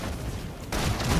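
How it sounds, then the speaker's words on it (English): Sustained gunfire in the video game Love and Deepspace, a dense noisy barrage that swells louder midway through the short burst, with no talk. "Requesting full suppression gunfire."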